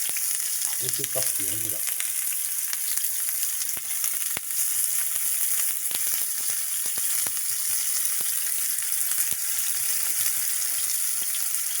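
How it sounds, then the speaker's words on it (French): Garlic, onion and chili hit hot oil in a frying pan, giving a loud continuous sizzle and crackle with occasional sharp pops, while a voice speaks briefly near the start. "L'huile de la poêle est chaude. On met l'ail, l'oignon, le piment."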